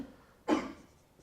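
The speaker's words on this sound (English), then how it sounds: "sorry for your cough" A single short cough from a person in a lecture room, one sharp burst in quiet surroundings with no other sound around it.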